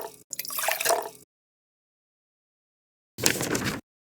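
Water poured into a bowl of dirt and stirred to make a mud pie, heard as two short wet, squishy pouring bursts separated by silence, with no talking.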